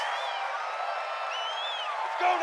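A home crowd at a football game roars steadily in the distance, a sustained wash of noise with whistles and whoops rising near the end.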